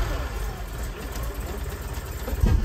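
BMW 2002 engine idling roughly with loud exhaust noise, a steady low rumble close by with a slight swell at the end and no clear speech over it.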